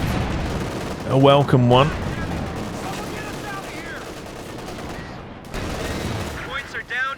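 Submachine gun fire in the Company of Heroes 2 battle game, rapid rattling bursts and scattered shots under a commentator talking.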